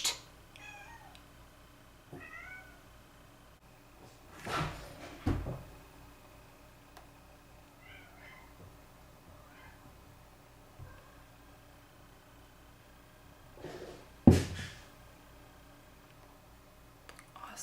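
A cat meows several times at a distance, short rising calls spread across a quiet room. A few sharp knocks and thumps cut in between them.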